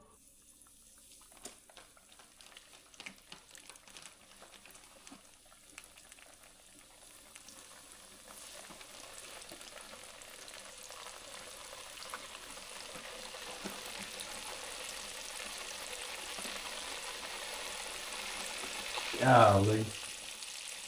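Bluegill fish fry in hot grease, a soft sizzle that slowly builds into a dense, steady frying hiss, with a brief loud clatter near the end and a short spoken exclamation.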